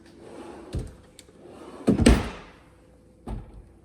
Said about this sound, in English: Nice deep drawers for pots, not soft close.